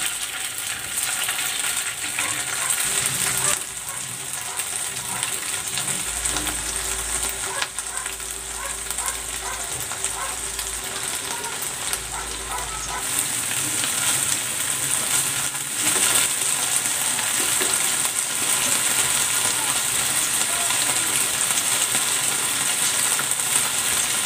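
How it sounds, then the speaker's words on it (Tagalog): Chicken pieces pan-fry in hot cooking oil, giving a constant close hiss and sizzle with scattered pops and crackles that grow slightly louder later on. "Pan-fry ko muna itong chicken."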